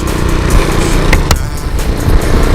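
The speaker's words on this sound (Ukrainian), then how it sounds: "Опасно на новому мотоцику їхати, бо блін, на холостих голосне" A new motorcycle idles loudly with a steady, rumbling low throb that stays close and constant throughout, broken only by a couple of brief sharp clicks.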